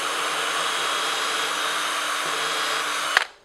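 A cordless battery drill fitted with a smaller bit runs at a steady high whine for about three seconds, close and loud, then stops abruptly with a brief clunk as it winds down.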